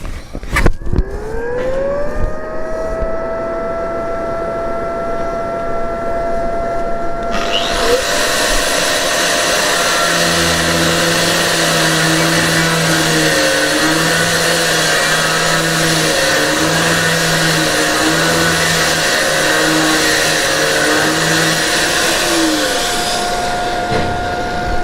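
A TYROLIT grinding tool machining aluminium, a steady high-pitched whine that climbs as it spins up, then turns into a loud, dense grinding roar with a rough pulsing undertone that holds for a long stretch before ending.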